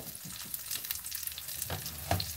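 Beef steak frying in butter in a pan as it is flipped, a steady close sizzle with a few soft clunks of the turn and no voices.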